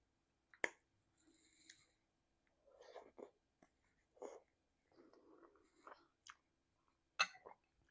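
Someone takes a bite of homemade beef stroganoff and chews it softly at close range, with faint wet mouth clicks and smacks in a quiet room.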